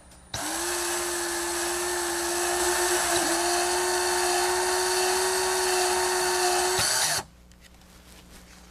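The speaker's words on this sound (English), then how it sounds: "take our drill and give it several rotations along the wires" A power drill spins continuously for about seven seconds to twist wires on a tree-making machine, giving a steady high whine with brief dips in load before it stops, leaving a quiet room.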